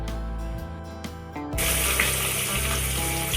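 Pieces of katla fish, rubbed with black pepper and salt, hit hot oil and set off a loud, steady sizzle that starts abruptly partway through and then continues without a break.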